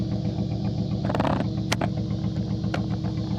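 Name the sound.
Toyota Supra engine with cams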